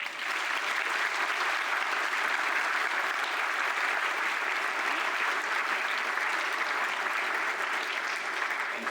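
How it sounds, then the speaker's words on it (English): Sustained applause fills a hall at a university honors convocation as the crowd claps for the platform party, a broad, steady roar of many hands that remains constant from start to finish. "Please join me in applauding them."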